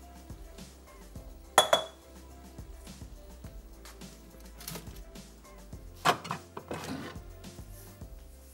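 A frying pan and kitchen utensils clatter on a home stovetop, with two sharp metallic clanks early on and another burst of clinking later, over quieter knocks and handling in between.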